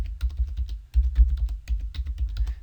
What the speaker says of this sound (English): So you could even type in here